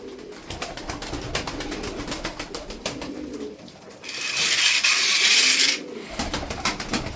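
Tokat tumbler pigeons, kept as flying birds, coo and call close by, with wing flutters and shuffling in the loft, then a brief burst of rushing hiss midway before the calls return.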